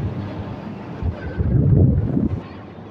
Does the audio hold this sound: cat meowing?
no